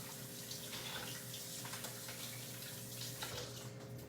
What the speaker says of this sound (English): I'm just going to wash my hands really quick